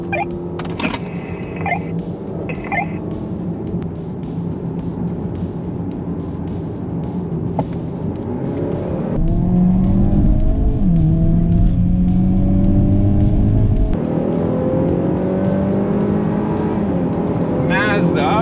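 Hyundai Kona N and Mazda3 Turbo GT accelerating side by side in a rolling drag race, engines rising in pitch with shifts as they pull hard, heard close from inside a car with people talking over the engine noise.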